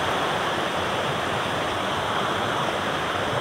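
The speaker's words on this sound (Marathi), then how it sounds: "हे स्ट्रीम आहे, तिकडून पाणी येतोय" A stream runs down a series of rock steps in a remote Maharashtra landscape, producing a steady, loud rushing roar of falling water with no breaks.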